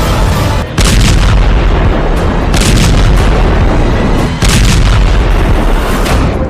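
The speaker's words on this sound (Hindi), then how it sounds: "लेबनान की राजधानी बेरूत धमाकों से दहल गया" Heavy, continuous booming explosions from Israeli air strikes on Beirut, Lebanon, loud and close, with sharp blasts erupting near the start, middle and end over a constant roaring rumble.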